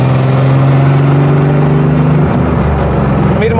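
A Porsche 964 RSR restomod's engine runs while driving, a loud, close mechanical drone with steady low harmonics that shift as revs change near the end, alone without talk.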